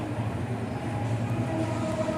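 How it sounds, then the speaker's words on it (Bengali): A train approaches along a village railway line, a low steady rumble building at a distance under open-air ambience. "ও ট্রেন আসছে"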